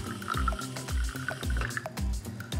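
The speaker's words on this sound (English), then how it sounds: "Now, I'm gonna take some water and fill it to the water line." Water poured into a microwave cleaner up to its fill line, a steady bubbling trickle with regular gurgling pulses, close and fairly quiet, with no talk.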